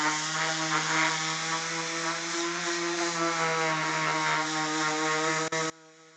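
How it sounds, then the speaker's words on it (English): A new sheet of sandpaper works across the face of a wooden box in a distillery workshop, probably driven by a power sander, giving a loud steady whirring drone that cuts off abruptly near the end. "The new sandpaper makes quite short work. Of the box face."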